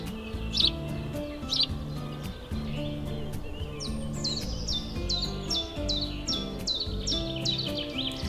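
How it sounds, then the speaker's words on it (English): Several birds sing and chirp in a spring forest while defending nesting territory, with repeated short descending calls and trills over a steady musical bed, fairly close and clear. "Lots of birds have made their nest and defend their territory with song."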